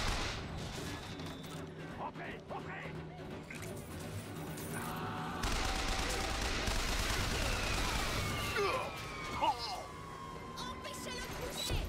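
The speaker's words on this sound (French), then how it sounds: "J'ai entendu une tourelle là-bas." Turret gunfire in Bioshock Infinite, bursts of shots mixed with a wailing alarm-like tone and dense game ambience, with someone talking over it.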